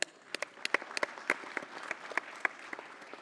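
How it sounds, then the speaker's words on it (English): Scattered applause from a small audience at a diamond jubilee ceremony, sparse individual claps with uneven spacing, fairly quiet and heard alone. "Please have a huge round of applause."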